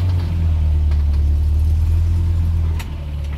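A car accelerates gently as the gas pedal is pressed slowly, a loud, steady low engine rumble close by that eases off slightly near the end, with no voices.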